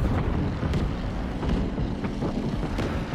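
A propeller airplane engine drones continuously during a flight in Call of Duty WWII, a loud, rumbling, steady roar with faint whooshing swells and no talking.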